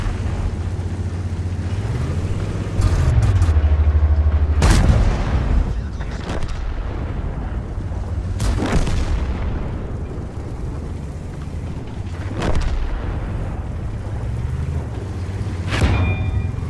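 Artillery fire in the video game World of Tanks: several sharp, heavy booms land a few seconds apart over a constant droning tank engine, whose pitch rises and falls as it moves.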